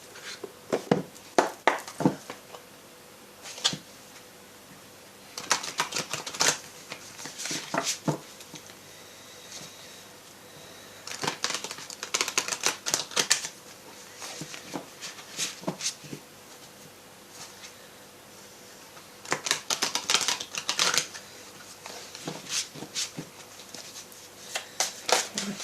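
A deck of oracle cards is shuffled by hand in repeated soft riffling bursts separated by pauses. The sound is close and quiet over a hushed room.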